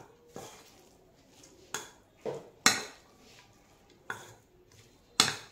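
A spoon mixes ghugni with fuchka filling in a bowl, making six sharp, separate clinks against the bowl at uneven intervals, close and fairly quiet, with near silence between them.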